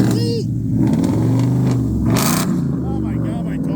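Ford Bronco Raptor exhaust revving close by, a deep rumbling engine note that swells and settles, with people talking over it throughout.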